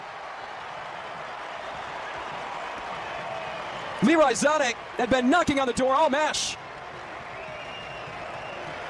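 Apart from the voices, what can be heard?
German fans cheering in the stadium after a goal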